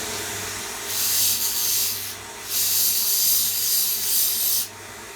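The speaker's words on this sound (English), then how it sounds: "so I'm just going to use the sander." An electric sander stripping paint from the end of a golf club shaft, a close, steady abrasive hiss in two sustained passes separated by a short pause, over a low motor hum.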